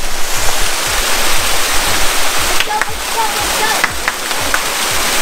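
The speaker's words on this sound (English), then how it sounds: "Next challenge, we're gonna climb up a bloody waterfall." Waterfall on the Gibb River Road gorges in the Kimberley, a steady broadband roar of falling water close by with faint splashing throughout, with no talk over it.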